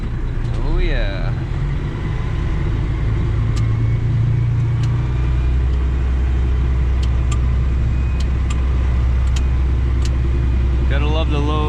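A vehicle pulls away in low gear up a steep hillside driveway cleared of brush, its engine holding a steady, loud drone throughout with a brief rise in tone near the start and end.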